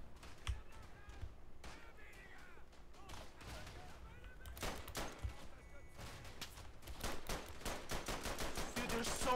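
Gunfire in the World War I shooter Verdun: repeated sharp rifle shots and distant crackling fire scattered throughout, fairly faint overall, with people talking over the shooting.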